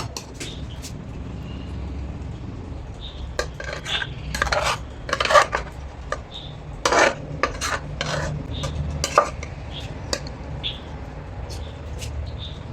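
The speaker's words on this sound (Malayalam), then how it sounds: "ഇനി നമുക്കിത് ആ ചട്ടിയിലോട്ട് മാറ്റി കൊടുക്കാം" Taro and tapioca curry is moved into a clay pot with scattered scrapes, clinks and knocks of a spoon against the vessels over a low background hum, without voices.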